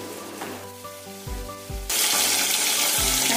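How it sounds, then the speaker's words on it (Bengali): Fish frying in hot mustard oil in a wok, a steady crackling sizzle that jumps sharply louder partway through as the pieces go in, with a few low clunks and no talking. "কড়াইতে আমি সর্ষের তেল গরম করে নিয়েছি, এখন মাছগুলোকে আমি ভেজে নেব।"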